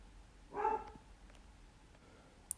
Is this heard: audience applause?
no